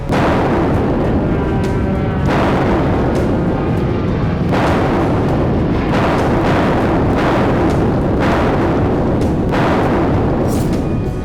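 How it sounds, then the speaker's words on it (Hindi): Relentless heavy bombing explosions in Gaza boom one after another, more than ten a minute, a dense barrage of deep blasts with rumbling roar filling the gaps, loud and continuous. "एक ही मिनट के भीतर 10 से ज्यादा धमाके हो रहे थे।"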